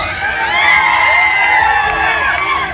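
A large, dense crowd at an outdoor political rally cheers and shouts continuously, with whoops and high voices overlapping in a loud, sustained roar.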